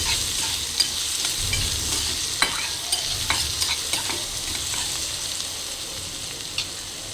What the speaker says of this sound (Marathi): आता मी ह्यात हा कांदा घालते आणि छान परत एकदा कांदाही आपल्याला छान परतून घ्यायचा आहे.